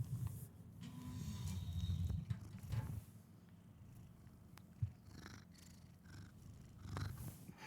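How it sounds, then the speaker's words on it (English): A male pet cat purrs steadily and close by with a nasal, snuffly tone, the low rumble holding throughout with a few soft clicks and shifts. "He's got a very nasally purr."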